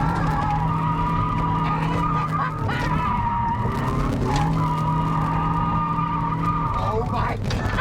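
A stock-power 1.8 NA Mazda Miata drifts at Capitol Raceway in Maryland: a loud, sustained engine roar with wavering, drawn-out tire squeals, close and continuous, with voices underneath.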